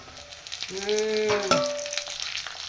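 Green chillies dropped into a hot frying pan for a tangy chilli mandi, giving a brief burst of sizzling and frying, close by, with a tonal hum running underneath and no talking.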